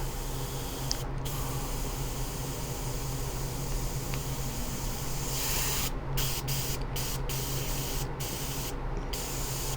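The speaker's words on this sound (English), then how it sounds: "Yep, got a good spray pattern out of that." Pre-thinned scale finish paint is sprayed through an airbrush onto a 1/25 AMT '62 Thunderbird model kit part, giving a steady close hiss with short breaks where the spray stops and starts.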